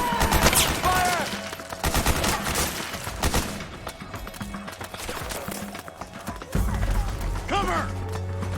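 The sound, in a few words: gunfire in Metal Gear Solid 4 video game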